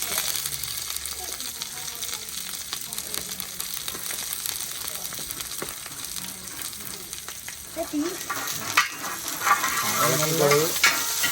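Ginger and garlic fry in oil on a wood-fired stove for a Kerala beef curry. There is a steady hissing sizzle with occasional stirring clinks, and it grows louder and busier toward the end.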